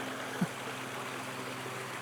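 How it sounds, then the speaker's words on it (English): Water from a garden waterfall spills steadily over rocks in a three-step drop below a statue, giving a continuous soft rushing wash with a faint thump early on. "the waterfall that you've been hearing the whole time since we started this video"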